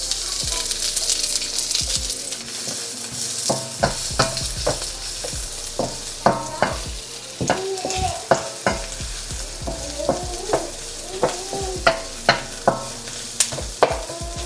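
Shallot and garlic sizzle steadily in a pan for fried rice while a spatula scrapes and taps through them in frequent, fairly regular strokes, close and clear with no talk.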